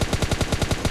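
Rapid automatic gunfire in PUBG Mobile, about eight evenly spaced shots in under a second, loud and close with no talk over it.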